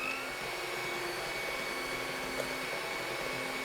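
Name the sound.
electric mixer whipping cream into chantilly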